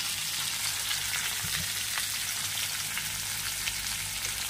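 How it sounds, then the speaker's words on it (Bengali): Chopped onion fries in a little oil in a wok, giving a steady, close, bright sizzle that runs throughout with faint crackles and no talking. "পেঁয়াজ কুচি দিয়ে দিলাম।"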